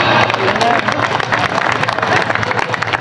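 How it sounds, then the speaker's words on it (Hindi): A crowd claps at a folk ritual gathering with dhol drums nearby, a loud, dense broadband wash of hands that holds steady throughout, mixed with background voices. "ताली बजाओ।"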